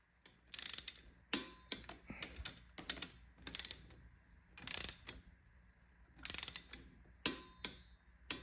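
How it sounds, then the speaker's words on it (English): Ratcheting T-handle snugging the pinch bolts on the top triple tree of a 450 motorcycle, with bursts of sharp clicking repeated at irregular intervals and short quiet gaps between, close and clear. "tighten down the pinch bolts here on the top of the triple trees here. I'll snug them with the"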